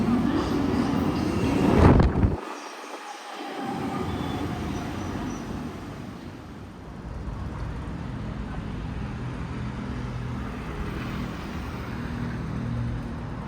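Beijing subway train riding along the tracks, a loud rumbling roar with a sharp burst early on, then a steady rattling hum of the moving car over the rest of the span, recorded from inside.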